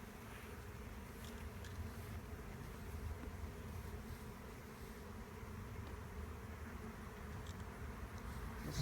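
Honey bees hum around a hive near a butterfly bush, a faint, steady drone of many wings with occasional louder buzzes as single bees fly close, heard alone without talk.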